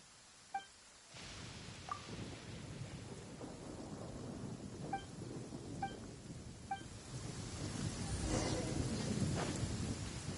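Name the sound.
rain falling in the video game Genshin Impact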